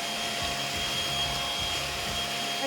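A STIHL cordless battery-powered leaf blower runs at a steady, close, continuous whir with an airy rush and a faint high whine, holding even in level throughout with no talk.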